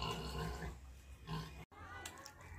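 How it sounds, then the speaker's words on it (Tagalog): Pigs drink and grunt at a farm pen, with close, rough snuffling and slurping sounds in steady bursts, briefly cut off and then resuming. "Nainom po mga baboy."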